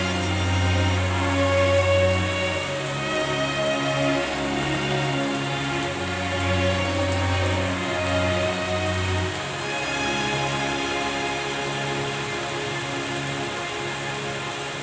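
Steady rain falling outdoors during a free chiropractic therapy session, a continuous broadband patter with a low droning hum underneath and no talk.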